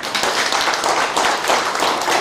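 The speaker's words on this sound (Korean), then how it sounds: "뜨거운 박수를 보내주시기" An assembly at a Korean agricultural cooperative's extraordinary general meeting applauds newly appointed board directors. The clapping is warm and sustained, rising and falling in waves, with no one speaking over it.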